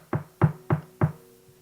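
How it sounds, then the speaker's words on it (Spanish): Four firm knocks on a door in a quick, slightly uneven sequence, close and distinct, with a faint fifth tap at the end. "y tocó la puerta"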